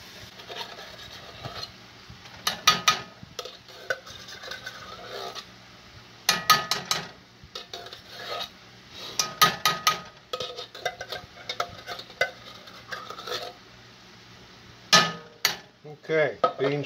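Bush's brown sugar hickory baked beans being scraped and knocked out of a metal can into a pot of browned meat at a campfire, with intermittent clanks, scrapes and taps in irregular bursts, fairly near.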